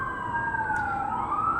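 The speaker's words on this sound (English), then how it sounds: "I know there's sirens in the background" Emergency vehicle siren heard from high up in a 52nd-floor apartment near an open balcony window, a steady wailing tone sliding slowly up and down, loud and continuous throughout with no talking.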